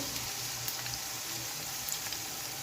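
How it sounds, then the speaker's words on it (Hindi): Chopped onions sautéing in oil in a pan for karela gosht, a soft steady sizzle and hiss with faint crackles throughout, close and low in level, no voices. "अब यहाँ पे हम प्याज को सौते करेंगे"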